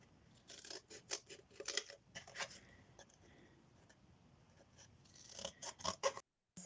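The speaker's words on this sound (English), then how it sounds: "Scissors." Quiet, close scissors snipping in quick bursts of crisp cuts, with pauses between runs and no talking.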